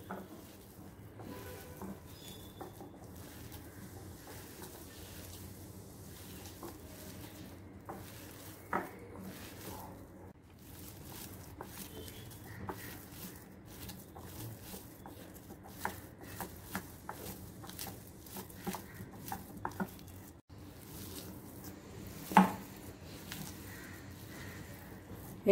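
Besan dough for kothimbir vadi being mixed and kneaded by hand in a bowl without water, giving soft squishing and patting sounds with scattered clicks of hand or utensil against the bowl, moderately quiet and steady with no talking.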